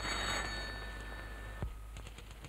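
A telephone rings in a 1974 Hindi film scene: a steady electric ring over a thick hiss and hum, cutting off abruptly partway through and followed by a few faint clicks.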